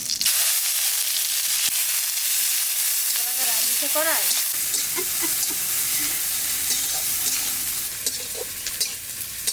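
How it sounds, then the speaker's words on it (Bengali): Cumin seeds and onion frying in hot oil for dal, a loud, bright crackling sizzle that rises sharply as they hit the pan, with brief squeaky scraping and spatula clinks close by. "এখনই তেলের পর দিয়ে দেবো জিরা দেবো পেঁয়াজ"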